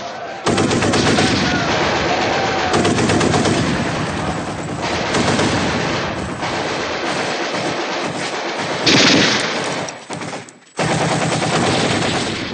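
Sustained, loud bursts of gunfire in dense volleys, nearly continuous with brief breaks, sounding close and chaotic.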